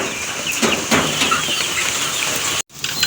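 Chickens, including a rooster, cluck and call in a farmyard during a typhoon, over a constant rushing wind-and-rain background, with a sudden brief drop-out near the end.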